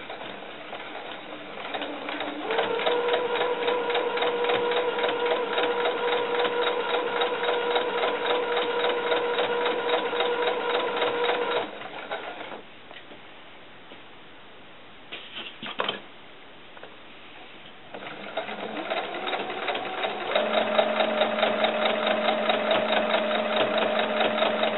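Sewing machine stitching along the edge of a small doll coat, a steady close mechanical whirring hum running for long stretches, pausing briefly with a few clicks, then resuming at a steady pace.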